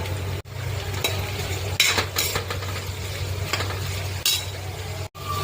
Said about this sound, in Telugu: కాకరకాయలు కొంచెం ఫ్రై చేసుకుందాం.